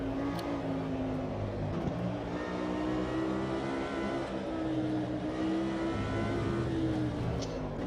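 Racing video game: a Lamborghini Huracan Super Trofeo at Interlagos with a sustained engine note that rises and falls as the revs change, loud and steady throughout.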